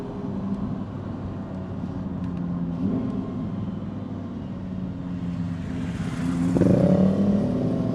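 A Lamborghini engine heard outdoors at some distance, a low steady rumble and whir that swells into a louder rising rev near the end, with no talk over it.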